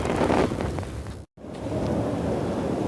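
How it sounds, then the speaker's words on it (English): Outdoor wind and rain during a walk in bad weather: wind buffets the microphone in heavy gusts while rain hisses beneath, with one brief moment of near silence. "So nice to sit down and get out of the wind and rain for a minute."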